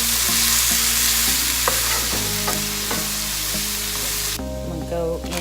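Garlic frying and being stirred in a pan, a loud continuous sizzle with stirring scrapes, under a steady musical background with repeating tones that shifts near the end.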